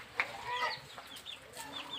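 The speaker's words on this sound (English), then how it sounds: "The chickens are here." Chickens on a Kenyan poultry farm, soft clucks and short calls scattered over a couple of seconds, faint and moderately distant against steady background noise.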